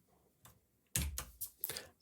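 Keys on a computer keyboard are tapped in a short, quiet burst of four or five soft clicks, close by and otherwise near silent.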